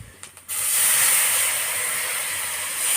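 Water poured into a hot pan of meat cooking with cumin, turmeric and spices sets off a loud, sudden hiss that continues steadily for a few seconds after a couple of short clatters.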